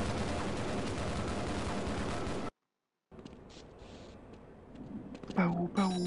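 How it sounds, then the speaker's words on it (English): Dense, continuous gunfire in the Half-Life video game rattles for a couple of seconds, cuts to silence, then gives way to quieter game noise with a voice talking near the end. "Why are the guns going off?"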